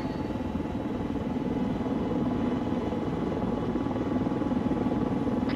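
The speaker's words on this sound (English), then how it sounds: "Incoming helicopter." Helicopter in a military video game approaching as an enemy aircraft, a steady low rotor thrum and engine drone holding at an even level throughout with no talk over it.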